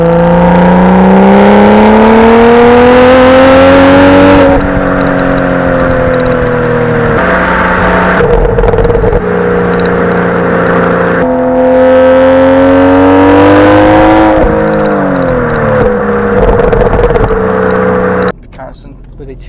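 A 2-litre turbocharged Audi S3 saloon revs hard through the gears, its engine note climbing in loud rising sweeps that drop sharply at each shift, close and prominent, with a voice talking over it before the sound cuts off near the end.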